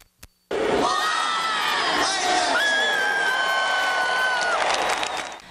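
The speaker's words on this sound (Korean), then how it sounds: "시민들의 환호성과 함께 시작된 크리스마스 트리 점등식" Cheering, whooping and shouting from a crowd of about two thousand at an outdoor Christmas tree lighting ceremony on Lincoln Center plaza in New York, loud and sustained after a brief quiet start, with shrill whistle-like cries rising above the roar.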